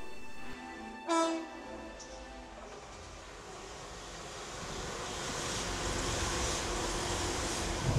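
Train horn sounding briefly early on during a train journey, followed by a steady, growing rumble of the moving train as wind-like noise builds.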